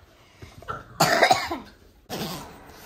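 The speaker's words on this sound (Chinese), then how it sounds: "还在咳嗽。" A sick young child coughs hoarsely, two close, distinct bursts a second apart, in a quiet home.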